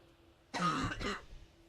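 One short, muffled cough bursts out over a quiet room hum, with a brief second push at the end.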